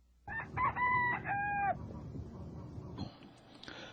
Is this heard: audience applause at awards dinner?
no